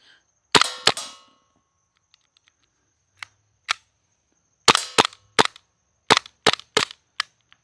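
A Lancer Tactical LTX airsoft gun fires BBs in sharp, close snapping shots: a quick pair, a pause, then a string of about ten evenly spaced cracks as the gas runs out.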